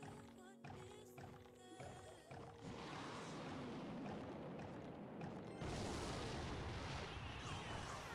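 Rocket spell explosion in Clash Royale: a broad, noisy blast roars in around the two-second mark and sustains as dense rumbling, following tonal game music, with a second swell near the end.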